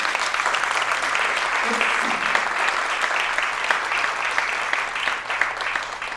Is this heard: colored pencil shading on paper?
no